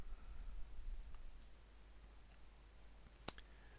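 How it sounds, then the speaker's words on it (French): A single faint, sharp mouse click on the OK button in Excel sounds near the end, with a few softer ticks scattered earlier over a quiet room hum. "je clique sur OK"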